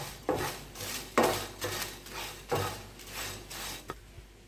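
Dried red chillies and coriander seeds are dry roasted in a pan, a utensil scraping and stirring in several soft, rhythmic strokes, close and faint with no talking.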